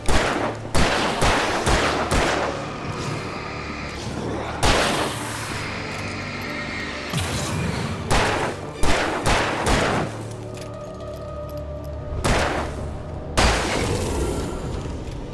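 Repeated gunshots in Alan Wake Remastered ring out as loud, sharp reports spaced a second or two apart, each with a booming tail, over a tense game soundscape.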